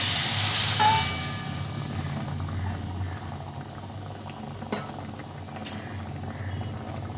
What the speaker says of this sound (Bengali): এখন আমি এই যে জলটা ফুটিয়ে রেখেছিলাম এই জলটা দিয়ে দিচ্ছি